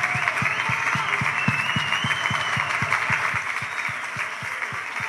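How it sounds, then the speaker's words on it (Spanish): Steady applause from the crowd at an outdoor charity lemon festival in Novales, loud and continuous, with a rhythmic low thumping beat underneath the whole time. "voy a pedir un aplauso para Quique Bretones"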